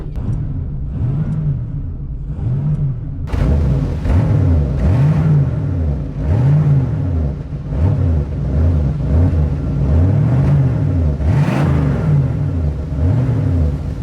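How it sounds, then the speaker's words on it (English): A Ford Mustang V8 on its stock exhaust revs repeatedly up and down in a steady rhythm, each rise and fall clear and close. It starts with lighter blips and then settles into deeper, louder revving, with no talk over it. "This is what it sounds like with the stock exhaust."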